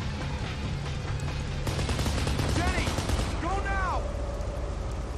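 Gunfire in the shooter game Kane & Lynch: Dead Men, bursts of rapid shots with ricochet-like whines and a loud, busy battle mix, with voices talking over it.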